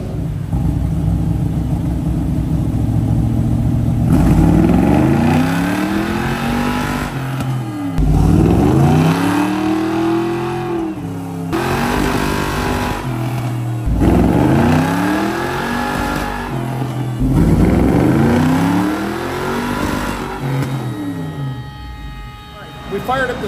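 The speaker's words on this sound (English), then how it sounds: "Fired up this 565 cubic inch, big block Chevrolet." A 565 cubic inch big block Chevrolet V8 in a 1969 Camaro with Edelbrock EFI, running loud and close, revving up and falling back in repeated sweeps over a steady idle rumble.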